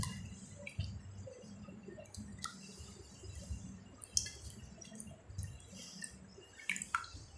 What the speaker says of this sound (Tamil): உப்பு தண்ணியில் போட்டு நல்லா கழுவு.